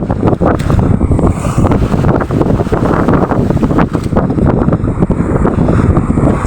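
Strong amihan monsoon wind buffeting the microphone in heavy, continuous gusts, a roaring rumble with no voices.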